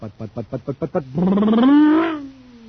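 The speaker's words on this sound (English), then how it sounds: "That cosmic surface car is really roaring now because it's supercharged with super fuel." A throaty sci-fi car engine effect, supercharged with super fuel, sputters rapidly, then swells into a long, rising roar that peaks and fades, sounding loud and close.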